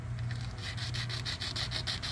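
A circular window opening is sanded in a plastic 1/77 Disney Nautilus model kit, giving a fast, even rasping rub that repeats in quick strokes, close but quiet, with no voices.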